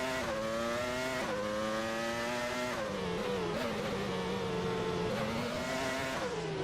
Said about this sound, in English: You hear Blake's car so close next to Apollo.